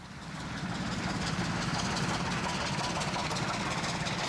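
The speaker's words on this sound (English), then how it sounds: "West Country Pacific 34048 Crediton, minus its nameplates, heads a down express for Bournemouth." West Country Pacific steam locomotive 34048 Crediton hauls a down express to Bournemouth in 1965, a steady distant rumble and roar of train and wagons building and holding without pause.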